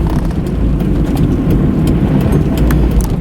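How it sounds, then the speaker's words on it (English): A car driven on the road with its roof closed, a steady, loud, low engine and road rumble heard from inside the cabin, continuous and unbroken. "driving this car with the roof closed is kind of a fun, miserable time"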